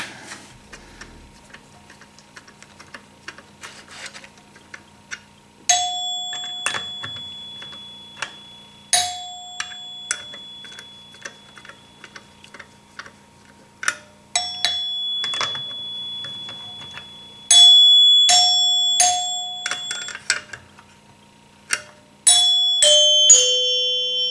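Gottlieb pinball machine chime bells struck one at a time and in quick clusters, each bright ding ringing out with a lingering sustain over a faint background hum.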